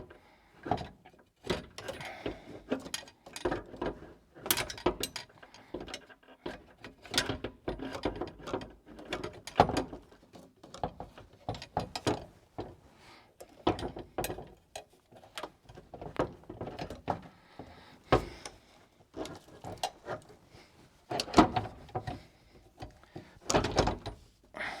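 A WK Motorsports short shifter being fitted to a Suzuki Swift: dense, irregular mechanical clicks, clunks and ratcheting snicks, close and fairly faint, repeat throughout with no speech.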